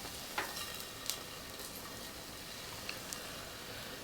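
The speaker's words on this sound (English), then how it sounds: "It's sizzling." Steady crackling sizzle of food frying in a pan, with a few sharp pops and ticks over the constant hiss.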